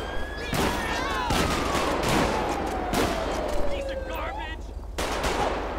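Repeated bursts of gunfire crack through a GTA V LSPDFR police-mod shootout, loud rapid shots in clusters over a low engine-like drone, with shouting voices mixed in.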